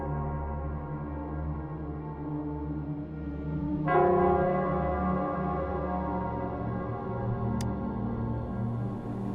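A single loud church bell strike from Nell Squares in the Wuthering Waves game rings out over a low sustained drone, its tone lingering and fading slowly, with no voices.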